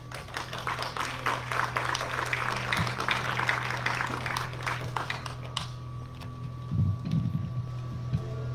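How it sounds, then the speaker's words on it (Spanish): An audience at a poetry slam event in the Montevideo Botanical Garden claps for a poet for several seconds, a dense outdoor patter that dies away abruptly, leaving a low hum and a few faint sounds. "Un aplauso para él."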